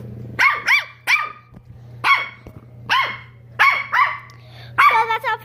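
Small dog barking and growling indoors, sharp close yaps in short bursts, some in quick pairs, over a low steady hum, with a few brief moments of a person talking.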